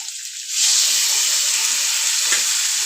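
Ground tomato chutney goes into a pan of frying onions, the sizzle jumping louder as it hits and then hissing steadily and close, with a light stir midway.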